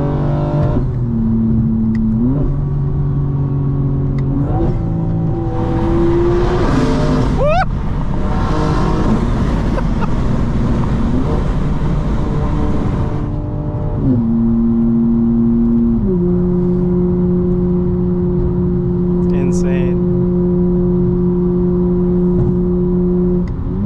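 Engine and exhaust note of a 2025 BMW M4 Competition xDrive heard from inside while driving on a windy day, with steady tonal drone shifting pitch through gear changes and a brief louder rev.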